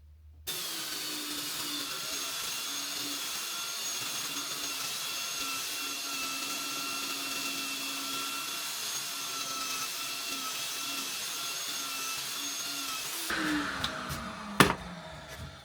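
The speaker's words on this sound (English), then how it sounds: "I'm going to use the belt sander just to see how it cleans up" A belt sander with 80 grit paper runs on scrap wood, a steady close motor drone and abrasive hiss held for about thirteen seconds before spinning down with a few knocks.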